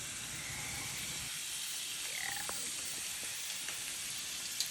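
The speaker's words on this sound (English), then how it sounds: "That's sizzling. It's sizzling." Steady, loud sizzling of steak frying in a hot pan, a continuous crackling hiss with a few small pops, no talking.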